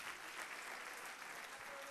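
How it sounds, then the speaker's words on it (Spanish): Applause from a church congregation during a sermon, a dense steady wash of many hands clapping at fairly low level throughout, with no voices standing out. "dale un aplauso al Señor"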